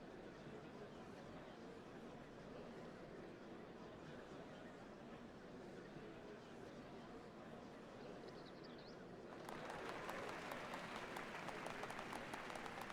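A large crowd applauds at the Dawn Servant Ascension Ceremony in Final Fantasy XIV, a continuous broad roar of clapping that swells louder and brighter near the end.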